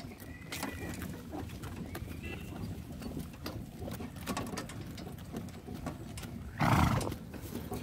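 A horse pulling a cart neighs loudly near the end, preceded by steady clip-clop of hooves and cart rumble throughout, with birds faintly audible in the background.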